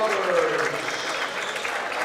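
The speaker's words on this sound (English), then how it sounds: "Come out to applause." Crowd applause in a gym at a boys high school basketball game, a steady roar of clapping and cheering with a commentator talking over it.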